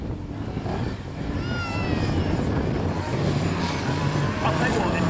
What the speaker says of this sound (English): Mid-engine, motorbike, powered open wheel buggies.